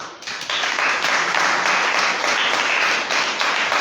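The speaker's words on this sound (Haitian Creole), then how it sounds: "Applaudis mon Dieu" A church congregation applauding during a sermon, dense sustained clapping from many hands that swells quickly and holds loud and steady throughout.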